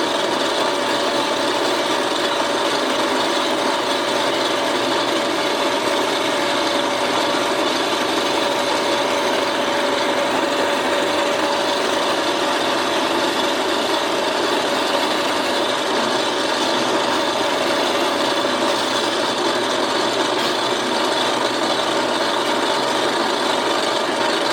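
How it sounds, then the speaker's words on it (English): A bandsaw cuts a slit for a wooden wedge while a hatchet is being made, giving a loud, unbroken whine and rasp that holds steady throughout, with no voices. "I'm just going to do that on the bandsaw"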